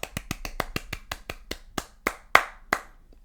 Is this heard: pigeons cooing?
no